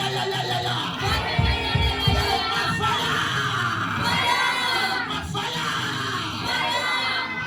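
A church congregation cheers and acclaims Jesus, with a loud crowd of overlapping shouts, whoops and yells sustained throughout, alongside music.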